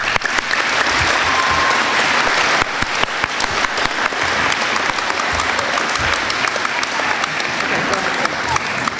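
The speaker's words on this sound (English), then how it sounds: "let's give us another round of applause" A school audience claps loudly and continuously, dense sustained applause filling the room with voices faintly mixed in beneath.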